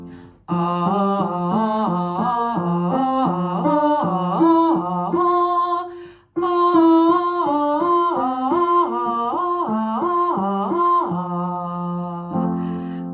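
A voice sings a seesaw vowel exercise, stepping up and down in alternating pitches, two phrases separated by a brief breath; clear and close, with no speech.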